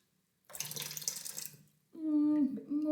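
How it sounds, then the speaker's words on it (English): A small container dipped into water to fill it halfway, a gurgling splash and slosh of pouring water followed by a louder sustained run of water with a rising tone as it fills. "So I'm going to dip it into my water"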